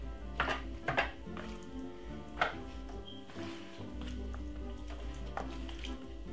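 A metal oven tray clatters and scrapes against the oven during a roast chicken prep, with a few sharp knocks over quiet kitchen background.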